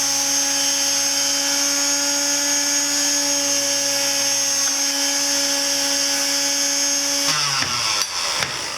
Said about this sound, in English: just take the sander to them with about some 320 grit sandpaper